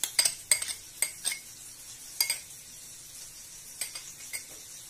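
Fresh yogurt and chopped green coriander being mixed for a salad, with a spoon clinking and scraping against a bowl in a series of close, sharp taps separated by short quiet gaps.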